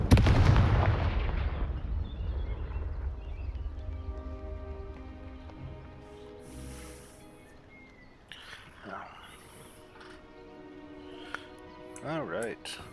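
In the video game Hogwarts Legacy, the Confringo explosive spell goes off with a loud opening blast. Rumbling debris and crackles follow and fade, and scattered game effects sound through the rest of the clip.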